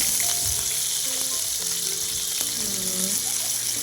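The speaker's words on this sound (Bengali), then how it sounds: "কাঁচা লঙ্কা কুচিয়ে আর বেশ কয়েকটা কারি পাতা এই তেলের মধ্যে আমি দিয়ে দিচ্ছি" Chopped green chillies and curry leaves hit hot oil for spicy semolina, giving a loud, steady close sizzle and crackle with scattered pops and a few clinks of stirring.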